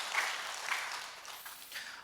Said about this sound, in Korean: 박수 한번 해드릴까요?